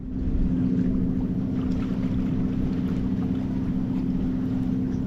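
A sailboat cruises downwind through a shallow channel, a steady low hum and rush of water and wind running evenly throughout.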